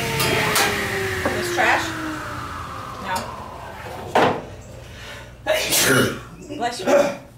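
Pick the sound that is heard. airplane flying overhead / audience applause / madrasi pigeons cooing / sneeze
sneeze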